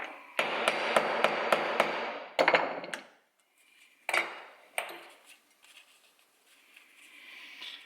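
A socket used as a punch is struck with a hammer on a Lambretta scooter, a quick run of close, ringing metallic blows followed by a few lighter, scattered taps.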